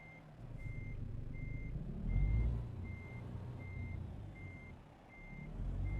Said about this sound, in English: Times like these, I don't like having the backup beeper waking guys up.